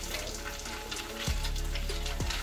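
Crappie fish patties frying in a pan on a gas stove, a steady close sizzle and crackle of oil throughout.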